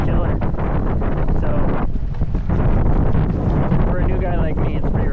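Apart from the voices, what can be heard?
strong gusty wind on a sailboat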